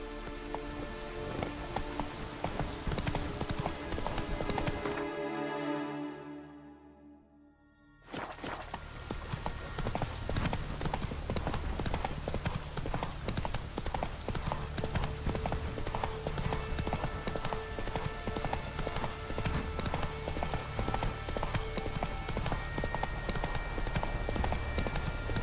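Roach the horse from The Witcher 3 clip-clops steadily in near, even hoofbeats, with a wash of rain underneath and a brief dip to near quiet partway through.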